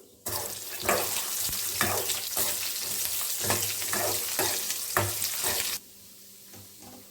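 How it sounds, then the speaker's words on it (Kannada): Steady crackling sizzle of cashews frying in hot oil, with rhythmic scraping stirs, running for several seconds before cutting off to near quiet. "ಕಾಯ್ದ ಎಣ್ಣೆಗೆ ಗೋಡಂಬಿಯನ್ನು ಹಾಕಿಕೊಂಡು ಚೆನ್ನಾಗಿ ಹುರಿದುಕೊಳ್ಳಿ"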